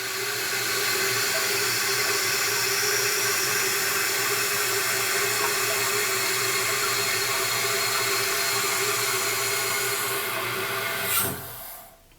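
Toilet tank refilling with hard water after a slow-fill fault was fixed, a loud steady hiss and rush of inflowing water holding for about eleven seconds before shutting off abruptly.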